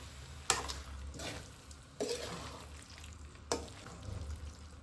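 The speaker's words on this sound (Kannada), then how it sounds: "ನಾನು ಹಾಕ್ಕೊಂಡು ಫ್ರೈ ಮಾಡ್ಕೊತಾ ಇದ್ದೀನಿ" Cauliflower pieces for gobi manchurian frying in a pan, giving a steady sizzle with a few sharp bursts of spatter and stirring at regular intervals, close and fairly quiet.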